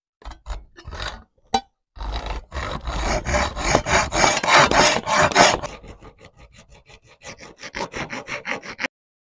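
A screw is tightened hard on a PWK carburetor being prepared for a 70cc Stage6 street racing setup. Rapid, close rasping and scraping strokes come in dense bursts, then ease into lighter, quicker scrapes, with no talking.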